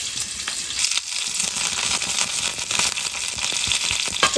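Chopped onion, curry leaves and mustard seeds hit hot oil in a pan and sizzle loudly and steadily, with dense crackling and popping throughout.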